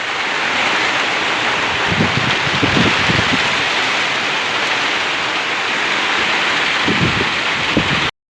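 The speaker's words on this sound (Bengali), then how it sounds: "প্রচুর ঝড় বৃষ্টি।" Heavy storm rain with wind on a turkey and chicken farm, a steady dense roar throughout with a few low rumbling gusts or thumps rising out of it.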